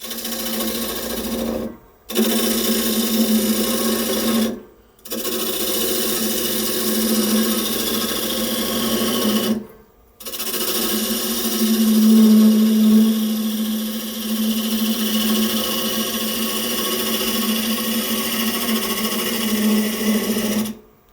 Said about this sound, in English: With a pretty even, clean cut. Basically a planing cut